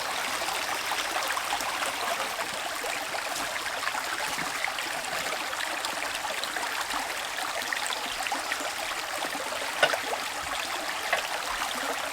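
Creek water flowing in a steady, even rush near a garden, with a couple of faint clicks and no talk.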